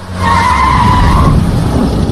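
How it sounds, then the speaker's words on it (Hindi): A car in an Indian action film brakes hard to a stop, tires skidding with a loud, sustained squeal for about a second over low road and engine rumble, then the rolling noise carries on. "गाड़ी रोक रहे।"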